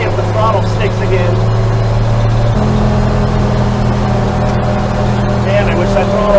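A fire truck engine with a sticking throttle drones steadily and loudly from inside the cab, its pitch shifting partway through as it accelerates, with a steady hum throughout.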